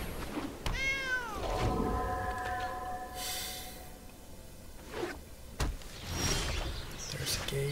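A house cat meows several times nearby during a Magic: The Gathering Arena draft, drawn-out rising-and-falling calls with short chirps and snorts, over quiet room noise and faint background sounds.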